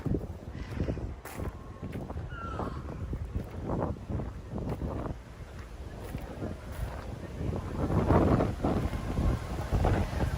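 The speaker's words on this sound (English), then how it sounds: "it's getting way too windy and way too cold" Strong, cold wind buffets the microphone outdoors in Ryogoku, Tokyo, in a continuous low roar that gusts louder toward the end, with a voice faintly audible beneath it.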